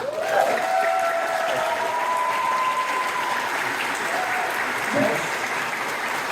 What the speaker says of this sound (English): Let's congratulate her with a round of applause.